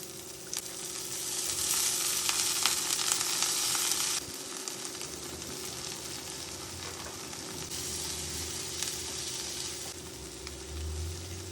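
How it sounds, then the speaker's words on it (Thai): Pork liver is stir-fried with sweet pepper and onion in a hot pan, giving a loud, continuous sizzle with bright hissing bursts, close up. The crackle swells and eases with occasional stirring, and no one speaks. "ตับผัดพริกหวานหอมใหญ่ค่ะ"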